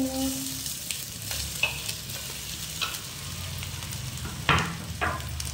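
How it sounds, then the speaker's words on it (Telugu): Sliced onions frying in moderately heated oil in a pan, a continuous close sizzle with intermittent scrapes and clinks as they are moved about, no talking. "అయితే మనకి తీసుకున్న ఉల్లిపాయలని ఈ బాండీలో వేసేసుకున్నాము."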